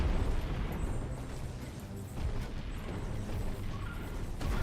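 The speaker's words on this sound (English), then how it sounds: "Now they're actually using their torpedoes" Ship torpedoes fire in a space naval battle in the Treasure Planet: Battle at Procyon game, a dense rumbling barrage of booms and blasts that runs loud and steady the whole time, with no talk.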